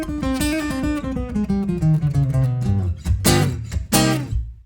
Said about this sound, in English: What you heard there was my pride and joy Maton EBG 808 Tommy Emmanuel signature